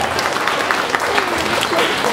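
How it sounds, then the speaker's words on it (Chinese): An audience claps steadily throughout at a Buddhist centre gathering, a dense, even wash of applause. "掌声鼓励一下"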